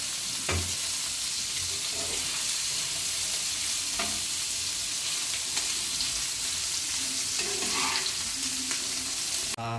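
Paneer frying in a couple of spoons of oil in a pan, a loud continuous sizzle with occasional spatula scrapes and taps, no voices.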